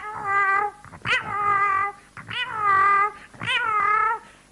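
A voice imitates cats in heat: three long, wavering, whiny yowls with brief gaps between them, loud and close, with no other sound around them.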